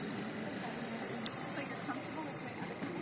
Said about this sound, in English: When you spray over each other, it makes even more different colors.